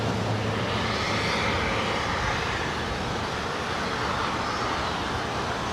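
A jet airliner passes at Los Angeles International Airport with a loud, steady engine roar. The roar swells gently and holds broadband through the whole stretch, with no talking.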